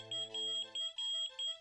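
Alarm in the Perfect Dark Area 51 infiltration mission, a clear electronic beep repeating in quick regular pulses, loud and alone.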